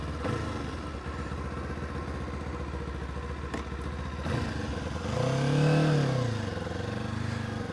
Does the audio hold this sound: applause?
no